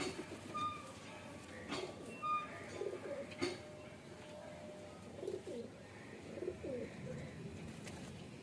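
A pigeon cooing at a pigeon loft, soft repeated low coos spread across the stretch, faint beneath a steady background hiss, with a few sharp clicks in between.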